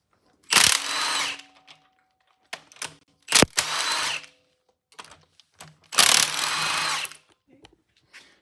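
Power tool bursts loosening and spinning out head bolts on a 413 Wedge engine during teardown: three long broadband whirring runs of about a second each, separated by short clicks and clatters, close and loud.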